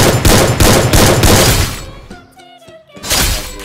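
Rapid gunfire in the mobile shooter Free Fire, loud bursts of repeated shots, a brief pause with ringing metallic tones, then another burst of firing.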